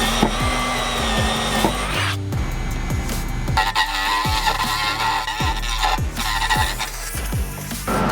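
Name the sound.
drilling a bigger hole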